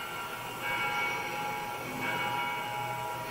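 A train rumbles at a Campbelltown station platform with a steady mechanical drone and metallic hum, swelling slightly twice, no voices present.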